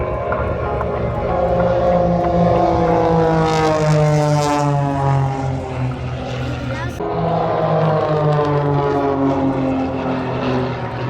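A propeller airplane drones loudly overhead during a formation loop at an airshow, its engine pitch sweeping down and up as it loops, with a second engine's tone blending in.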